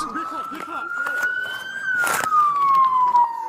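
A wailing emergency siren rises and falls steadily close by, loud and continuous, while people talk over it.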